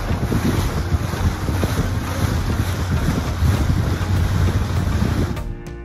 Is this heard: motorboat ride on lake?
yes